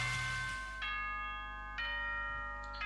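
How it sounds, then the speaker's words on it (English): A school bell chime from the Danganronpa game sounds three times, each strike a clear ringing tone that decays slowly before the next, over a low steady hum. "The deep ringing of a school bell rang across the halls, echoing through the building"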